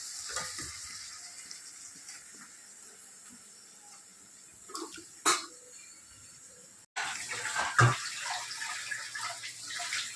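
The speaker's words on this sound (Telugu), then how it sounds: "రైస్ పెడతాను, కుక్కర్ కడిగేస్తున్నాను అందుకే." Water runs while a pressure cooker is washed, a soft continuous splashing that jumps louder partway through, with occasional clunks of metal against metal.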